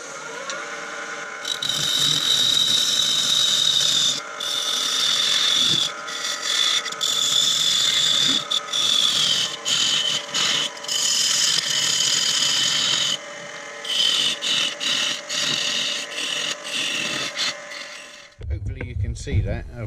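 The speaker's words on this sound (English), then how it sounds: "Gonna get a bit boisterous with a parting tool now" A parting tool cuts into wood spinning on a lathe while a small Christmas tree is turned, giving a loud continuous scraping rasp with a steady whine. The sound dips briefly now and then and ends abruptly, then a different low noise follows.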